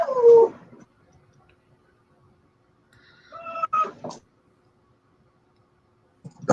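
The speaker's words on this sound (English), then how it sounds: "Dog's going crazy." A dog whimpers and yips in short excited bursts, one at the start, a longer run midway and another at the end, separated by near silence.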